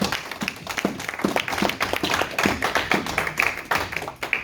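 Church congregation clapping and applauding, a dense run of rhythmic hand claps from many people, fairly close and continuous throughout.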